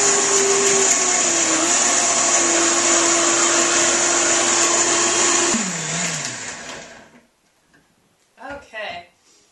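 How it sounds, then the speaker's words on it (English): A Vitamix high-powered blender roars loudly and steadily while blending a sauce for kale chips, then its motor winds down and stops, followed by a few brief close clatters. "we're going to blend it up. I use a Vitamix. You can use any high-powered blender."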